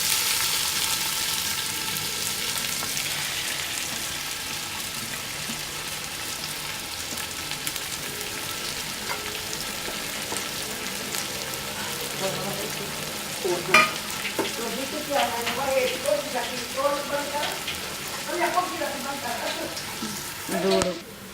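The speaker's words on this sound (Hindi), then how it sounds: "अब इसमें मैं ये 3 बड़ी प्याज भून लूँगी," Three large onions fry in a cup of cooking oil in a big pot, giving a steady crackling sizzle throughout, with occasional scrapes and stirs of a spoon toward the end, close and fairly loud.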